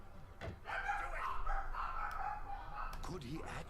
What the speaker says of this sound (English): I'm so sorry for that barking